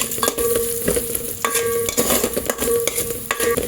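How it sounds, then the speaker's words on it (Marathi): Two tablespoons of cumin seeds crackling in hot ghee for hotel-style jeera rice, a dense close sizzle with rhythmic scraping strokes of a spatula stirring the pan every second or so, no talking. "आपलं जिरं मस्त तडतडलं आहे"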